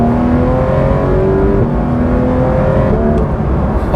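A Porsche 911 GT3 RS engine pulls hard at speed, a loud continuous rising whine heard from inside the car with steady road roar beneath it.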